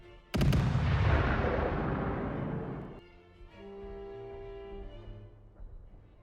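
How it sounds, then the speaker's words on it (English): Artillery barrage in a WWI browser strategy game: a sudden loud blast of booming fire at the start, a dense roar of shelling that slowly fades, then quieter rumbling and tonal game sounds continue. "Let's wait for the artillery barrage in here."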